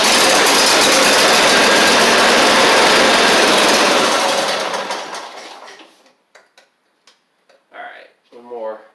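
A Husqvarna YTH24V48 riding mower, which has carburetor and governor problems, roars loudly and close at mid-throttle for several seconds, then dies away. A few faint clicks follow before a person starts talking.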